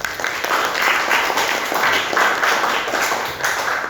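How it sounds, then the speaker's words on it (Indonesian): A classroom of students claps together in a dense, steady burst of applause lasting a few seconds, close and fairly loud with no voices over it. "tepuk tangan untuk Rafiza."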